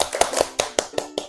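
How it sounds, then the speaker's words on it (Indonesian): Children clap a five-finger clapping pattern: about seven crisp, evenly spaced claps in a steady rhythm, close and clear, with a faint voice underneath. "Oh ya, tepuk jari 5."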